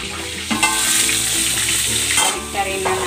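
Tilapia frying in a pan of hot cooking oil, a loud continuous sizzle and crackle close up, with brief bursts of spatter and no talking.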